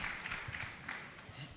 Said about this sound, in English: Another round of applause for her again.